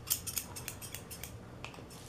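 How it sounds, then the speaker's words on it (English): Scissors snip repeatedly through a plastic bag as it is cut into plarn strips, a quick series of crisp close cuts in a quiet room. "Now grab your scissors,"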